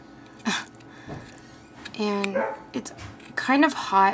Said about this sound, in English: Sorry about my barking dog.